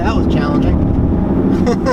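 A Jeep Grand Cherokee SRT8 accelerates while merging onto a highway, its engine a loud, steady low rumble mixed with road and wind roar, and someone talks over it inside the cabin.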